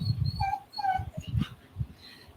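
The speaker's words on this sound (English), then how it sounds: "my dog who wanted to participate cannot participate now because she's getting wet" A female dog whimpering and whining, shut out from a meditation session because she is getting wet in the rain: several high, thin whines in short bursts with soft snuffly sounds between, close by.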